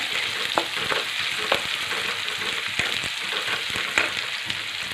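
Onion with sliced green chillies frying in a pan on the way to golden brown, a steady loud sizzle with occasional stirring clicks and scrapes, no voices.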